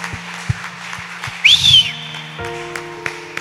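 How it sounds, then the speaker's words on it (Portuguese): In a church service, a congregation gives scattered claps and one bright, rising whistle over sustained keyboard-like tones, the clapping sparse rather than a full ovation. "Vamos aplaudir Jesus, Ele está aqui."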